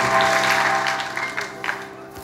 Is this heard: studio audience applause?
yes